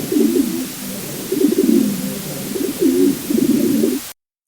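Pigeons coo in a close, loud, rolling series of low throaty phrases, four bursts in a row that stop abruptly.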